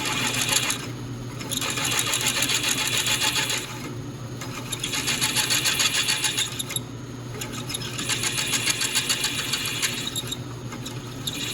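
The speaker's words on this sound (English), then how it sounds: "drill this out and tap it with this larger coarse thread" A power drill boring out a soft aluminum part to take a larger coarse thread, whining in several sustained bursts separated by short pauses, close and loud, with no talking.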